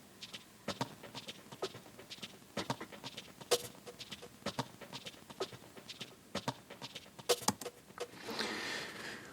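Glitchy percussion loop from the Tantra plugin's Pumper drum preset, with sharp irregular clicks and hits in a stuttering rhythm, quiet throughout, ending in a brief noisy swell, no talking.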